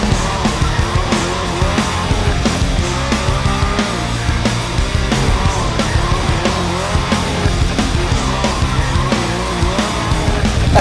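A BMW M8 Competition coupé drifts sideways on a racetrack, its engine roaring loudly under continuous squealing, skidding tires that keep wavering in pitch throughout, close and unbroken.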